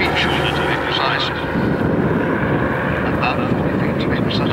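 Engines of a PBY-5A Catalina flying boat at Abingdon drone loudly and steadily, a broad continuous roar, with people talking over it.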